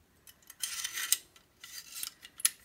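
Nails slid into the magazine of a Parkside manual staple gun from Lidl, giving bursts of dry metallic scraping and rasping with a couple of sharp clicks, close and fairly quiet.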